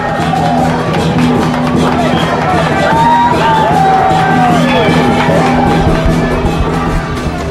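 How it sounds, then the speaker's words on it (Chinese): Temple crowd watching a blade-ladder climb shouts and cheers, a loud, dense babble with rising whoops and cries over a steady drone, continuous throughout. "活动过程中，除了惊叫声不断之外，叫好声也是此起彼落"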